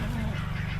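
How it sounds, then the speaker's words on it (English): Ducks quack and honk steadily inside a chicken coop, a dense, close chorus of overlapping calls with no clear gaps, heard without talk. "Duckies are good ducks."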